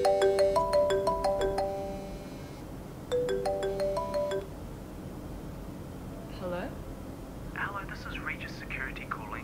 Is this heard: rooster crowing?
no